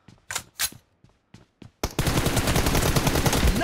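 Full-auto M416 assault rifle fire in the PUBG Mobile shooter game, a dense, loud continuous burst taking over after a few short isolated sounds, running steadily to the end without talk.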